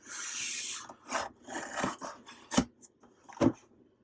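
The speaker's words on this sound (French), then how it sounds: "on va essayer d'ouvrir ce colis" Opening a well-wrapped parcel holding an Apple MacBook Air: close scraping, rubbing and cutting sounds on cardboard and packing, in irregular bursts with a couple of sharper knocks.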